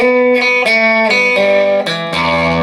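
A short acoustic blues guitar riff of plucked notes and slides on open strings, bright and clear, played alone and close with no voices.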